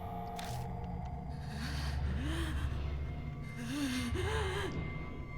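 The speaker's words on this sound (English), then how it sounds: "I hear what sounds like pained breathing" Pained, labored breathing in the horror game Spirit Hunter: NG, with gasping, wavering breaths rising and falling over a low ambient drone, steady and fairly close.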